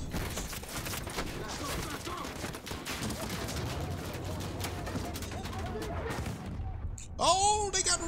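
Rapid bursts of gunfire in a Call of Duty Modern Warfare campaign mission, a dense continuous fusillade under voices and radio chatter, fading near the end as bird-like chirps appear.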